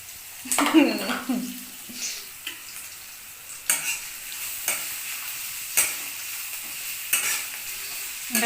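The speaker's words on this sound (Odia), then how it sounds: "ପିଆଜ ପଡ଼ିଲା, ପିଆଜଟା ଟିକେ ଭାଜି ହବ ଆଉ ନୁହେଁ।" Onions frying in a pan for a South Indian dish, a soft steady sizzle broken by several sharp scrapes of a spoon stirring, close and moderately loud.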